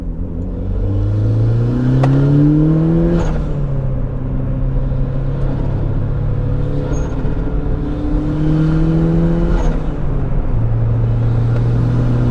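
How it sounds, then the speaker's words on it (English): A 300whp turbocharged Mazda Miata pulls hard through the gears, its engine note climbing steadily in pitch, dropping at each shift and climbing again, loud and droning from inside the car. "I'll let you see what this thing does with boost, just no lag"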